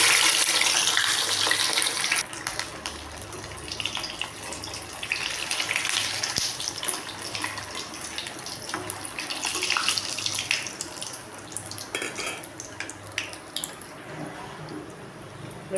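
Egg bondas sizzle and crackle in hot oil, a continuous loud close hiss that eases slightly after the first couple of seconds and then holds steady, with no talking.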